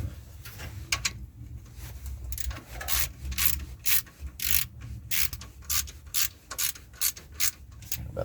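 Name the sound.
wrench tightening part on truck engine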